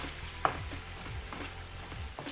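Sauce sizzles and bubbles gently in a hot pan, with a soft clink of a utensil near the start; steady, close, and fairly quiet.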